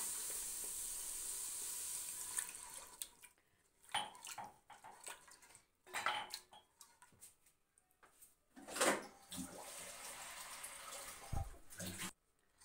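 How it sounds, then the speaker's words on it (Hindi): Water pours steadily into a pot of mash daal for a few seconds, followed by scattered clinks and clatters of cookware in a quiet kitchen. "अब आपने जो है ना इसमें हस्बे ज़रूरत आप लोगों ने पानी डाल देना है"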